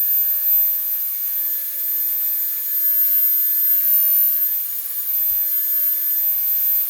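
A Dremel rotary tool set to low speed carves wood with a steady, high-pitched whine that holds throughout at close range, with no talking.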